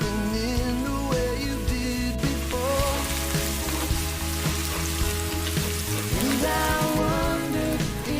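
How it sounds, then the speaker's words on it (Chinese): Ginger, garlic, fermented black beans and hotpot base stir-fried in hot oil for a dry-pot spicy shrimp dish, a steady loud sizzle running throughout with soft stirring scrapes and background music mixed in. "热油锅倒入姜蒜末、8克豆豉、20克火锅底料炒香。"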